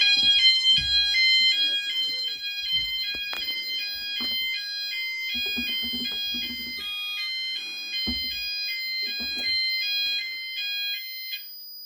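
Two sounders of an EMS 5000 Firepoint home fire alarm system ring loudly and continuously during a test, a rapid alternating electronic tone, with scattered clunks and faint background noise underneath.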